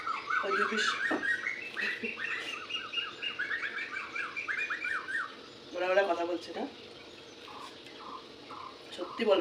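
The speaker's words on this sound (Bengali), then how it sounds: "বিশ্বাস করো আমাদের কি ভালো লাগে পাখির ডাকগুলো" Mynas, cuckoos, crows and other birds call outdoors on a hot day, a dense, close chorus of overlapping chirps, trills and squawks that runs almost without pause.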